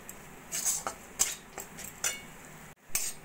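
A spoon scrapes and clinks against a pan while ground cashews are stirred for dry fruit modak, a series of short, quiet, close metallic strokes with brief gaps.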